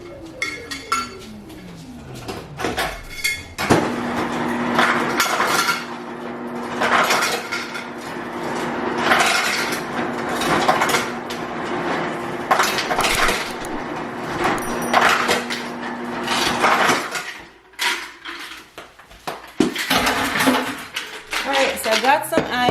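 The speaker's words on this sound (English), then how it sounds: "I'm gonna get some ice" Ice is scooped and dropped into a cup on a kitchen counter, making a series of close clinks and rattles over a low background hum.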